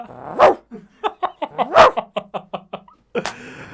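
A person imitates a dog, letting out a string of short barking yaps in a quick rhythm, close and fairly loud, ending with a breathy burst.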